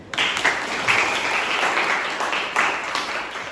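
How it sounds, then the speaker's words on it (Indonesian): Steady applause from a classroom group, sustained clapping at moderate loudness for a few seconds with no talking over it. "Tepuk tangan."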